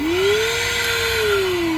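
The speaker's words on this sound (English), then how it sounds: "Got my vacuum." A battery-powered vacuum cleaner runs loud and close with a steady whirring motor, its pitch rising slightly, holding, then easing back down, with broad airy rush and no talking.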